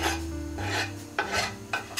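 A wooden spoon scrapes and spreads minced garlic and parsley across the bottom of a pan, giving a few short rasping strokes at close range with no talk.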